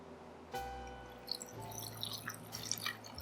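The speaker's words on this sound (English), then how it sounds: "Feel awkward having to pour my own bourbon." Four Roses bourbon is poured into a glass: a soft clink, then a light liquid trickle and drips, close and quiet.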